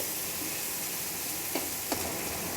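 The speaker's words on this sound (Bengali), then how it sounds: "পেঁয়াজ, রসুন এবং টমেটোটা খুব ভালো করে তেল এবং ফোড়নের সঙ্গে নেড়ে চেড়ে মিশিয়ে নিচ্ছি" Onion, garlic and tomato fry in oil with whole spices, giving a steady, even sizzle with two brief stirring scrapes near the end and no voices.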